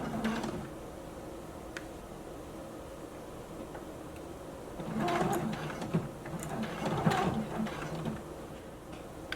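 A sewing machine stitches over a thick fold on a clutch bag, a quiet mechanical whir and clatter at moderate distance that grows busier in the second half.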